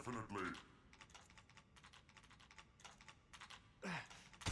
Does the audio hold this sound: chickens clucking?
no